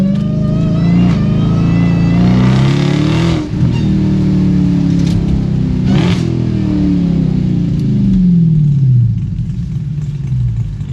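A Dodge Hellcat with a new aftermarket exhaust accelerates hard on a freeway, its loud engine climbing through repeated rising sweeps with brief dips at gear changes, steady and close throughout.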